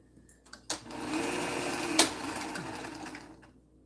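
A sewing machine stitching a quilt block runs in a steady, close mechanical whir for about three seconds, starting abruptly and fading out at the end.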